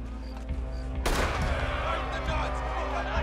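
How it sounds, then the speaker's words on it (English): A single loud gunshot rings out in Red Dead Redemption 2 with a sharp broadband crack and a lingering echo, heard over a steady low game rumble. "Gunshot, really?"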